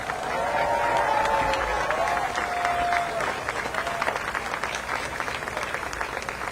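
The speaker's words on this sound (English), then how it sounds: "Give them a round of applause." A crowd at a March on Washington anniversary event applauds participants of the original 1963 march, producing steady clapping over a continuous murmur of voices.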